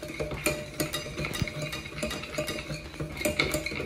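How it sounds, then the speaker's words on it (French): Melted butter and chocolate whisked together by hand with the whisks of a switched-off mixer in a bowl, producing quick rhythmic metallic clinks and scrapes, fairly close and steady. "On mélange bien jusqu'à ce que le beurre et le chocolat soient bien liés ensemble"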